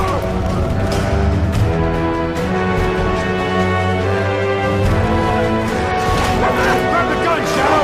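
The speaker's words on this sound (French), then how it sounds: "Il s'agit bien sûr du chien loup qui accompagnera le joueur dans Dead to Rights Retribution." A wolfdog companion in the action game Dead to Rights Retribution barks and yelps amid game sound effects and crashes, while a narrator talks over it throughout.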